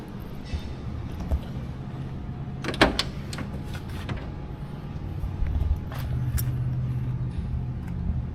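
The passenger door of a 1971 Monte Carlo is handled nearby: a sharp latch click and a clunk around the middle, a few lighter knocks, then a faint mechanical hum over low background rumble.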